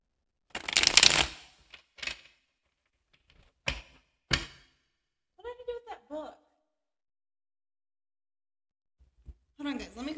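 Osho Zen tarot cards being shuffled in a few short riffling bursts, the loudest at the start, separated by silences, with someone speaking briefly in between.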